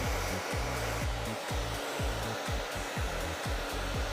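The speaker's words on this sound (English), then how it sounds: "you can see I'm being very gentle when I'm blow drying" A hair dryer runs steadily while blow drying a hair system, its close, continuous whir pulsing in a regular rhythm as the airflow is moved through the hair, with no talking.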